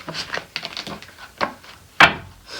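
Tarot cards being shuffled by hand: a string of short, crisp riffling bursts at an uneven rhythm, close and fairly loud, ending with one sharp louder snap.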